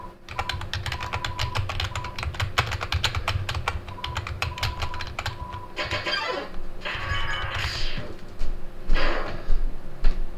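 Rapid, steady clatter of keys on a computer keyboard, close and fairly loud, typing in quick runs with brief pauses and a few heavier keystrokes and rustles toward the end.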